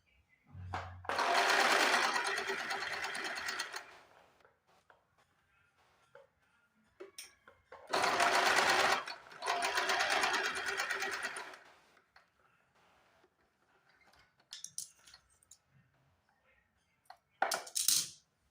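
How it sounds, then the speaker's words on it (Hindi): A sewing machine runs a diagonal seam on a katori blouse in several loud bursts, each lasting a few seconds, with soft clicks and handling noises in between. "तो इस तरह से हमने तिरछे में एक सिलाई लगा दी है।"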